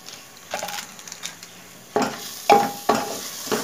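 A spoon stirs food in a pan with tomato ketchup, giving several scraping clatters over a soft sizzle, with the strokes growing louder toward the end.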